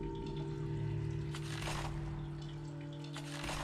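Water flows continually through a cave in the game Sisyphus Reborn, a steady pouring trickle running without pause beneath a low sustained tonal drone, with no voices.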